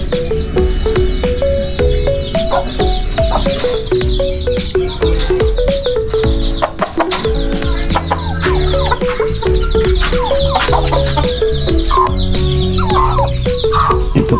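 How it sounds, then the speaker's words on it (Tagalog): Gamecocks kept in a coop cluck loudly and continuously, with layered overlapping calls and an occasional crow, close by and with no talk. "Yan po manok na sabungin"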